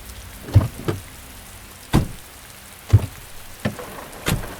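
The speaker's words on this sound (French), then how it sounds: "il se met à pleuvoir" Rain begins to fall in a horror video game scene, heard as a handful of separate heavy drops striking a surface at uneven intervals over a quiet background.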